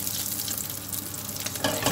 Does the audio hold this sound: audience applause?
no